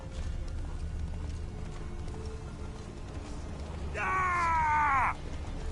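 Horse hooves clip-clopping on the ground in The Witcher 3, a steady trotting rhythm under game ambience, joined near the end by a loud horse whinny.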